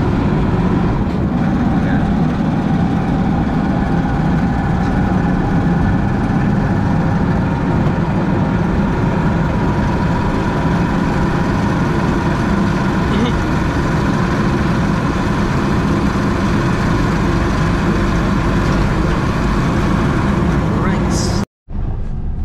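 A motorized tricycle engine drones loudly and continuously throughout a ride, mixed with rushing road and wind noise, with a voice talking over it before an abrupt cut near the end.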